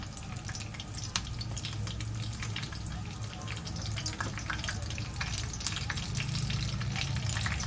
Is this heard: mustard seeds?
yes